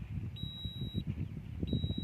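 An LPS-1200 water leak detector emits two thin, high electronic beep tones, each lasting under a second, over a murky, rumbling background.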